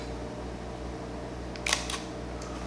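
A single camera shutter click fires on a camera fitted with a Godox TT685f flash set to high-speed sync, a brief faint snap over steady room hiss.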